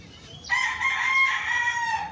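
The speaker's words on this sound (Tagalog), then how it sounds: "At may tumatilaok na manok." A rooster crows once, loud and nearby, a long drawn-out call over quiet background.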